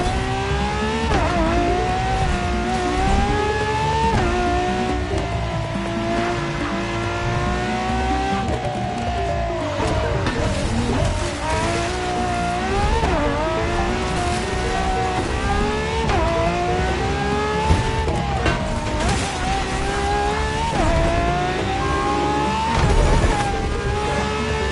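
A Toyota Supra races in The Crew Motorfest. The engine roars loud and constant, its pitch rising and falling through gear changes, and tires squeal as it corners along a winding road.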